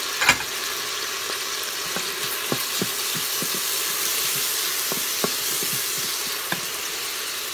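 Garam masala tipped into hot oil in a pot for matar pulao makes a soft, steady sizzle and hiss, broken by a few light clicks and taps of a spoon, moderately quiet with no talking.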